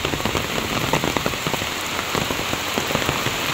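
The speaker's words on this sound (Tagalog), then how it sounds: "Napakalakas po ng ulan dito." Loud, unbroken typhoon downpour beats on surfaces near a home surrounded by trees, a dense nearby roar of raindrops with scattered sharper hits and no talking.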